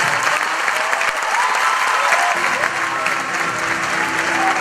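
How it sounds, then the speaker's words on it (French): Audience applause at an award presentation, a full and steady round of clapping from a large crowd that carries on for several seconds at close range. "Sous vos applaudissements, mesdames et messieurs."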